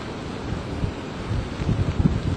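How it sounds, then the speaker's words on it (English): Steady wind roars and buffets the microphone on a boardwalk at the Jersey Shore during coastal flooding, a dense low rumble that swells louder toward the end, with no voices. "It's certainly windy out here"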